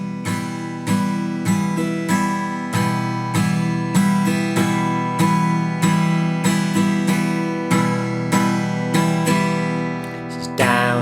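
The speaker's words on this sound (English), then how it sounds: "the second strumming pattern we're going to do is down, down, down, down, up. And when played at tempo, it sounds like this." A guitar strummed at tempo in a down, down, down, down, up pattern, with bright full chords ringing out in a steady, even rhythm, played close and alone with no talking.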